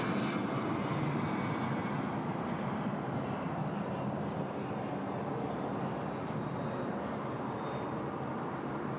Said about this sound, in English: We've got our 717 now rolling at 16 right.